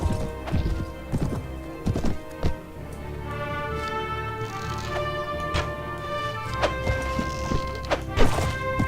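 Horses gallop in Mount and Blade: Warband with repeated clip-clop hoofbeats and heavy thunks over a busy background, a horse whinnying amid the clatter, fairly close and loud.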